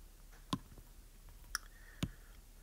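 Calculator buttons being pressed to switch into degrees mode: three sparse, soft plastic clicks spaced about half a second to a second apart, quiet and close, with no talking.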